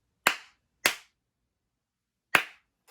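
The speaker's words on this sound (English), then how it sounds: "3 claps just to make sure" Three sharp hand claps, loud and close, the first two about half a second apart and the third after a pause of roughly a second and a half, with silence in between and no talking.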